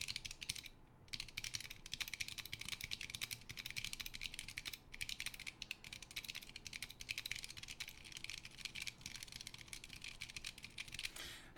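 Typing on a Choc low-profile mechanical keyboard: a fast, continuous stream of light, clacky keystrokes, close but quiet, with a steady rhythm and only a couple of brief gaps.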